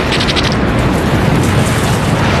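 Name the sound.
grenade explosion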